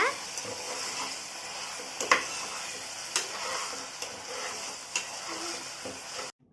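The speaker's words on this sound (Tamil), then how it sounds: "இப்போ அடுத்து இஞ்சி பூண்டு பேஸ்ட் போட போகிறோம்." Ginger garlic paste sautés in a pan for prawn gravy, giving a steady sizzle with scattered spoon clicks and taps against the pan, close up, before the sound cuts off abruptly at the end.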